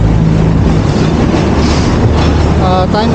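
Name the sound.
LRT light rail train passing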